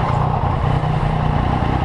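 2017 Yamaha MT-09 at full throttle, a loud, steady engine roar with a deep low rumble from close by, heard from the bike on a coastal road, with no talk over it.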